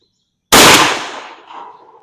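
A shotgun fires Claybuster wad buckshot of eight .34-caliber pellets, one sharp, very loud blast close by after a moment of silence, followed by a fading echo tail.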